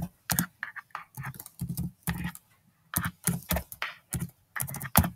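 Computer keyboard keys clatter in quick irregular bursts with short pauses while a presentation title is typed, close and fairly quiet, with no voices.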